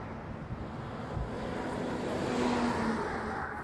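Cars rushing past on a road one after another, a steady broadband roar with wind buffeting, swelling as a vehicle nears and passes close by.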